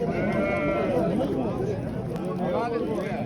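Goats and their kids bleat repeatedly at a busy livestock market, the wavering cries overlapping under near constant talk and crowd bustle.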